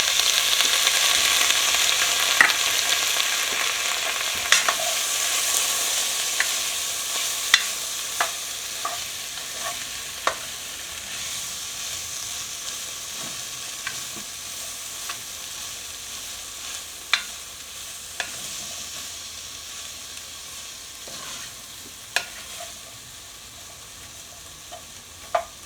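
Mushrooms frying in a cast iron pan, a bright steady sizzle that gradually fades, punctuated by sharp scrapes and clicks of stirring, close up with no talking.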